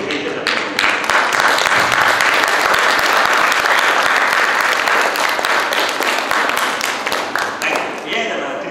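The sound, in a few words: audience applause for parents at school event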